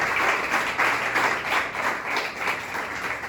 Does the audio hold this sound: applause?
yes